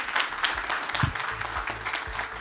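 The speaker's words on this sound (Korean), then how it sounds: "다시 한번 큰 박수 보내주십시오" Applause after a keynote speech at a Korean law forum on population decline, moderate steady crowd clapping in a hall with a low background hum, fairly distant and even throughout.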